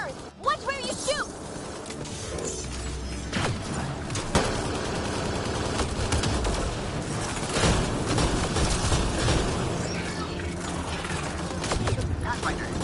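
Rapid bursts of gunfire in Mass Effect Andromeda, loud and near, with volleys continuing throughout a dense battle din; voices shout over the shooting.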